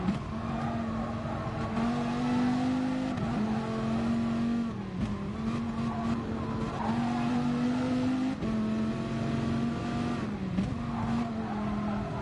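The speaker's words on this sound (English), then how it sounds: "You can hear those tyres squealing every time he goes round a sharp corner." Race cars in the Gran Turismo Sport video game roar continuously for twelve seconds, engines rising and falling through gear changes, with tyres squealing repeatedly as they take sharp corners, loud and steady with no talking.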